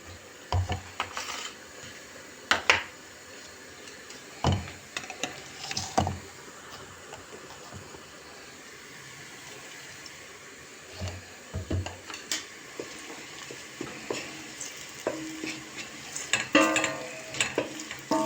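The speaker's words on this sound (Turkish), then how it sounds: "Güzelce kavruldular. Salçasını artık verebiliriz yemeğimize." Onions and peppers sizzle in a pot while a spoon scrapes and clatters against the sides in irregular bursts of stirring.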